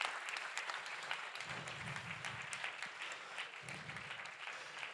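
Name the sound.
applause from the room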